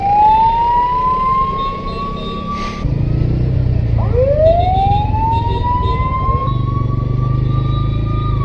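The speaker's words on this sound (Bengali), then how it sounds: "জ্যামেতে অ্যাম্বুলেন্স ফেসে গেছে।" An ambulance stuck in a traffic jam wails its siren in rising and falling sweeps close by, over a steady rumble of idling engines and traffic noise.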